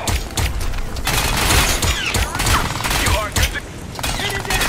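Pistol gunfire in the video game Crysis 3. Rapid, loud shots go off over dense game combat noise and mechanical clatter, in a continuous busy burst.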